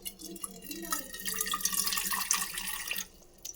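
Water splashes and trickles into a metal pot for making tea for a few seconds, a steady close-up pour with light clinking, fading out at the end.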